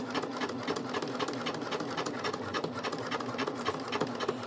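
A sewing machine runs steadily, stitching through a mini credit card wallet, its fast even needle chatter continuing close and loud without pause.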